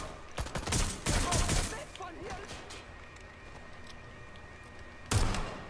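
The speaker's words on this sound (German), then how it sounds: "Es fallen Schüsse." Gunfire in the video game Watch Dogs Legion: a few sharp bursts of shots early on, then a quieter stretch with faint game ambience, and another loud burst near the end.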